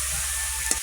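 A spoon stirs and scrapes food in a pan of frying tomato chutney, giving a close, steady sizzle with a low rhythmic rumble and a sharp clink near the end.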